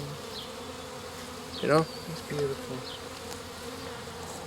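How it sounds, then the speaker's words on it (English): Bees clustered in layers in a hive, keeping the eggs warm, give a steady low hum close by, with a brief quiet voice partway through. "you see how the bees congregating here to keep warm"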